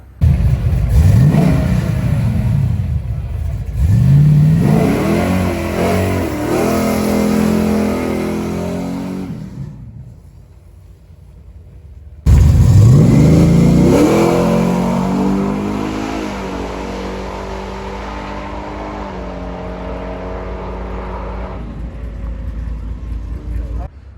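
A nitrous-sprayed truck with a heavy stock frame launches at a drag strip, its engine roaring and climbing through rising revs in two loud acceleration runs, each one fading away afterward, with a voice speaking over the noise.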